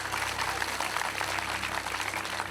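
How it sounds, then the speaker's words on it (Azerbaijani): Studio audience applauding a contestant on an Azerbaijani television quiz final, a steady broadband patter of many hands filling the whole moment with a low hum beneath. "Fəxrəddini alqışlayaq, xahiş edirəm."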